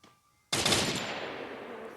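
Sudden burst of rapid automatic gunfire in the Free Fire video game, loud and sustained after a brief quiet start, with no talk over it.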